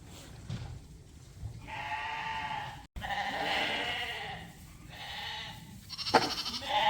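Lambs bleat in a sheep barn, with several drawn-out, wavering cries that come one after another at moderate volume over quiet background rustle. No one speaks.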